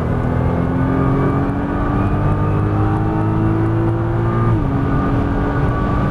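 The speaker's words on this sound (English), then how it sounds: "Now start to pick up the throttle." A Nissan GTR accelerates out of a corner on a racetrack, its engine note rising steadily and loud and close throughout before the pitch dips and shifts near the end.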